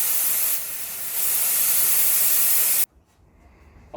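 Pressurized air from a tank in a Toyota Supra BN Sports kit install blasts out in a loud, broad hiss that dips briefly, then cuts off abruptly, leaving quiet background.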